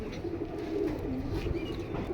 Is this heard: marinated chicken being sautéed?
no